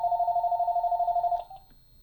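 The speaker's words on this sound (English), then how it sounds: "And sorry about that phone ringing." Landline telephone ringing indoors with a rapid warbling electronic trill that stops abruptly after about a second and a half, loud and alone.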